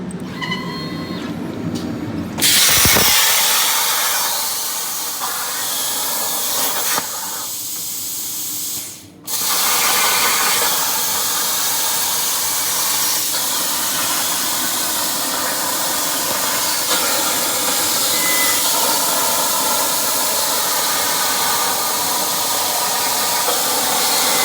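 A plasma table cuts a new steel rear crossmember for a Jeep in a cold Michigan shop, a loud, steady roaring hiss running almost the whole time, broken by one short pause partway through.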